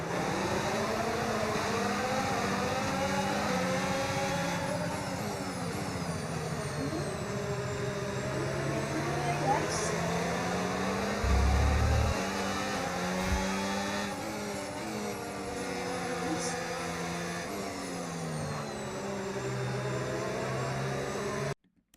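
Formula 1 car engines in an F1 video game at the Dutch Grand Prix, revving and rising through the gears in continuous high-pitched sweeps, loud and steady with a brief low thump midway.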